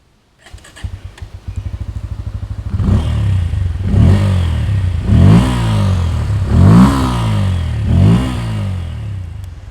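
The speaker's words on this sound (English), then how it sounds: "Bajaj has managed to make an extremely bassy, deep and raughty exhaust note." A 2022 Bajaj Pulsar N160 motorcycle idles with a deep, bassy exhaust note, then revs up five times in rhythmic rising bursts, loud and close.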